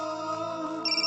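A telephone rings with a bright electronic ringtone, a short sustained burst of layered tones that shifts to a higher pitch near the end, heard alone.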